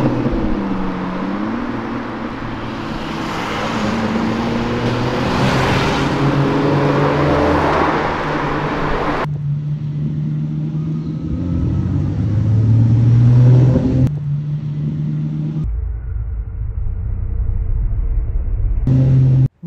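Ferrari Testarossa sports car engine revving and rumbling loudly nearby on a São Paulo street, a sustained throaty roar rising and falling, with abrupt shifts in tone and level.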